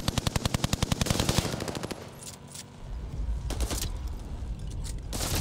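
Rapid automatic gunfire from the video game Call of Duty: Warzone opens with a fast, loud burst, followed by more distant shots over a dense game soundscape.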